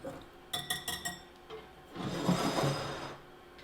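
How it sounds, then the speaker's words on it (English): A whisk runs through flour, salt and sugar in a bowl: a quick series of bright metallic clinks against the bowl, then a softer, rushing swirl of stirring that swells and fades, with no voices. "And then we'll take a whisk and just whisk that up."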